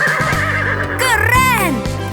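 A horse neighs loudly over a steady bed of background music, its whinny rising and falling in a long wavering call near the middle of the moment.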